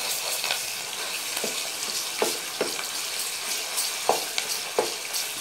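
Ginger garlic paste sizzles steadily with onions in a pan for kofta curry, a loud continuous fry broken by several sharp scraping clicks as a spoon stirs.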